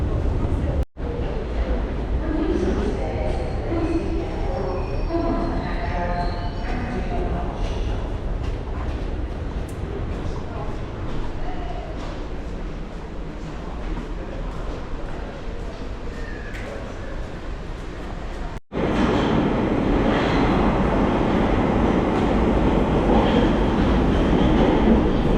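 A London Underground Piccadilly Line train at Holborn heard from inside, a steady loud rumble and rattle of the carriage running continuously, with a brief break near the end before the noise resumes.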